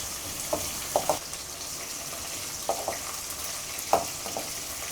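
Shallots and green chilies fry in a pan with a steady soft sizzle, broken by a few light stirring knocks and scrapes.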